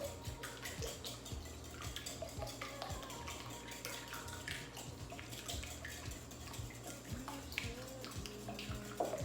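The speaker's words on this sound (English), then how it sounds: "now I'm going to lightly whisk this together" Lemon and orange zest is whisked with vegetable oil in a bowl for biscotti, giving a steady, busy clatter of quick metallic ticks and splashy swishes up close.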